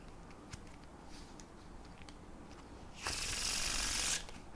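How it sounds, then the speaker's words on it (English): A quick riffling burst of a Faro shuffle of playing cards, about a second long, after quiet faint handling clicks. "the perfect Faro Shuffles just sound so good"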